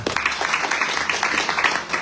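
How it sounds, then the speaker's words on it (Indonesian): A church congregation claps during a worship service, a steady patter of many hands lasting a couple of seconds at moderate loudness, with faint voices mixed in. "Berikan tepuk tangan untuk Tuhan."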